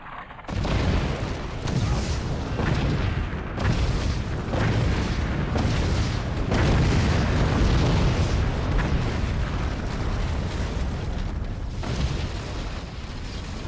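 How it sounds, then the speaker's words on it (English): Upgraded rockets fire and explode in the strategy video game Forts, a dense run of loud booms and bursts overlapping one after another after a brief quiet start. "now these fire rockets"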